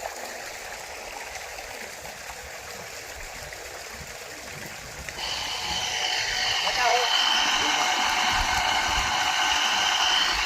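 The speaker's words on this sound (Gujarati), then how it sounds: "થઈ ગઈ મોટર કમ્પ્લીટ ચાલુ." A water pump motor hums continuously while a steady broadband rush of pumped water grows louder midway, sounding close and constant.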